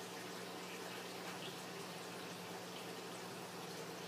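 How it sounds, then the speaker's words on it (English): Wild grape juice drains through a strainer in a quiet, steady liquid trickle, faint and continuous without talk. "And then we see my strainer, and it just drains through it."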